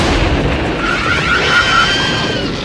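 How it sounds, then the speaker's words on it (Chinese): A violent bomb explosion set off by a lit, thrown bomb near a cliff, heard as a loud, sustained roaring blast with rumbling low end and crackling debris across the whole stretch, with no voices. "随着一声剧烈的爆炸，怪兽顿时受惊"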